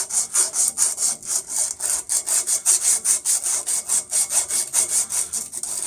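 Sandpaper rubs back and forth across the end of a copper pipe to clean it, a steady rhythmic scratching of quick strokes, close and loud with no voices.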